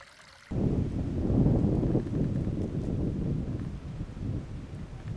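Wind gusts buffet the microphone outdoors on a cold, frosty morning during deer hunting season, a loud, steady rushing roar that starts abruptly and continues throughout.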